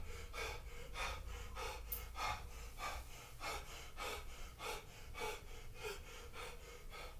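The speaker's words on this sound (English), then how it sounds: "because I'll be breathing heavily" Heavy, rhythmic breathing after an at-home workout: steady, close in-and-out breaths repeating about every half second, loud and unbroken, with no talk.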